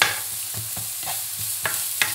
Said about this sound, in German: Das werde ich jetzt so 1-2 Minütchen anbraten, so bis das die Zwiebel etwas gleisig sind